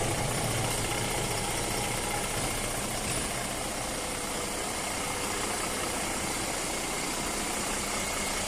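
A Toyota Land Cruiser J300 engine runs steadily at idle during a suspension check, a constant close mechanical hum with slight vibration throughout and no talk.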